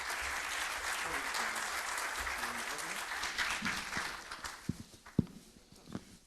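Seminar audience applauding to welcome a speaker, a dense burst of clapping that thins out toward the end into a few scattered final claps, moderately distant in a room.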